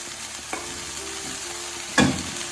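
Soya chunks are tipped into frying masala in a pan and stirred, giving a soft knock, then a sharper clatter of spoon against pan near the end, all over a steady background sizzle.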